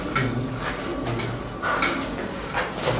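A copper black pigeon coos in soft, repeated low calls, with faint clinks and rustles around it in a small enclosure.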